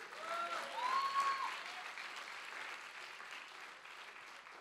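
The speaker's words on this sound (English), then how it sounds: "clap your hands and give him praise" Church congregation claps hands in praise, a moderate burst of applause with a few voices calling out, peaking early then tapering into softer, thinner clapping.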